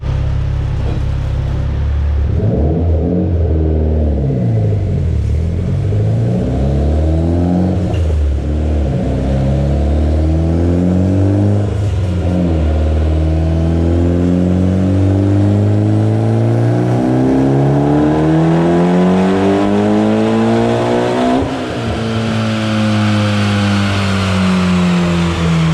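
A turbocharged Mitsubishi Evo X with a 3582 turbo, 2150 injectors and a 3-inch intake revs hard at around 25 psi of boost, its loud engine note sweeping up and down repeatedly through gears for the whole stretch.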